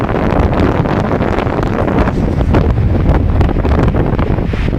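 A mistral wind blows on a winter beach on Corfu, a loud, continuous roaring rush buffeting the microphone, with no voices.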